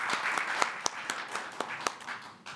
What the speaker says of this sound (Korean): 격려의 박수 좀 부탁드립니다